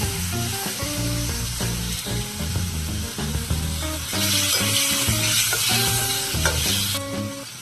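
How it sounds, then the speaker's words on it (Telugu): Garlic, tomato and green chillies fry and sizzle in a pan for an okra (ladies finger) pickle, with a steady hiss and spoon stirs. Background music plays over it, and the sizzle grows louder midway. "వెల్లుల్లి ఫ్రై చేసుకుందామండి."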